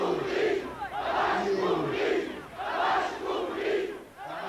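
A large crowd at a political rally during Portugal's Carnation Revolution chants a slogan in unison, with loud rhythmic swells of massed voices repeating several times and fairly close.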